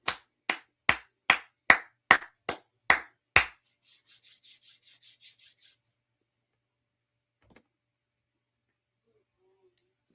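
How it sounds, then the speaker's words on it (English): Sharp, close hand claps in a biblical law class: about eight loud, evenly spaced claps, then a quick run of softer, faster claps before it falls silent, with one faint tap later. "let's clap it up."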